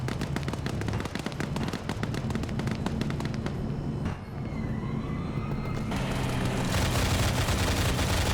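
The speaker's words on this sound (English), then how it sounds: "mortars are landing right on top of Op 4's position" Mortar shells land in a multiplayer war video game amid dense, continuous gunfire. Loud, rapid impacts crackle throughout, and a rising siren-like tone and heavier broadband blasts swell toward the end.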